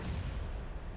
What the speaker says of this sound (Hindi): Perfect grenade.